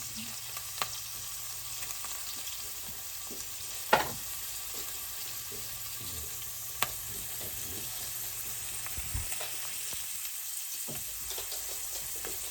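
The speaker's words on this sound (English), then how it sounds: "I use olive oil to do my onions." Onions fry in olive oil with a close, steady sizzle, crackling and occasional sharp pops over a constant hiss, with no one talking.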